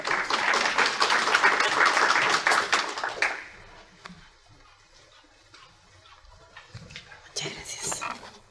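Audience applause at an evening legal conference, a dense loud burst of many hands for about three seconds that fades to scattered claps and room noise, with some quiet voices and a brief swell again near the end.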